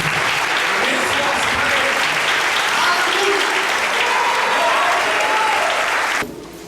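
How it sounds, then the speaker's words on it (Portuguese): A church congregation at an evangelical youth service applauds in praise, a dense, loud, sustained wash of clapping that holds steady before dropping off abruptly near the end. "aplauda o Senhor Jesus."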